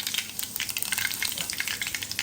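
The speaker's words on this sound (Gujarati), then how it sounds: "તો અત્યારે અહીંયા તેલ એકદમ ગરમ થઈ ગયું છે, એમાં હું નાખીશ રાઈ, એમાં નાખીશ જીરું" Mustard seeds, cumin, curry leaves and green chillies crackle in very hot oil for a tempering, a close, continuous sizzle with rapid popping.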